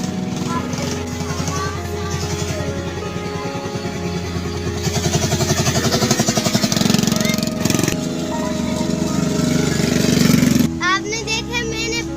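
Motorcycle engine buzzes steadily while being ridden at an amusement park, its tone rising as the throttle opens and then cutting off near the end, with people talking over it.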